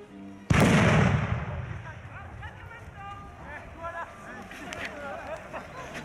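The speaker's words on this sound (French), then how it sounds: "Attention aux grenades!" A grenade detonates at the Sainte-Soline mega-basin protest in a single sudden, loud bang that rings out and fades, followed by people shouting nearby.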